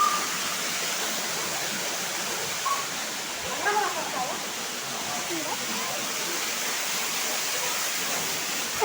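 A waterfall roars in a continuous, dense rushing wash, loud and close, with faint voices briefly audible beneath it.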